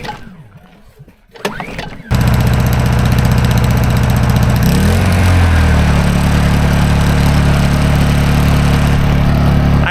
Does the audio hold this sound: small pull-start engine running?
yes